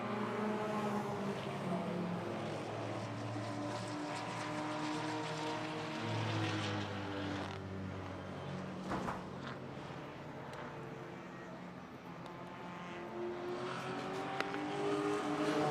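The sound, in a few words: race cars passing on the track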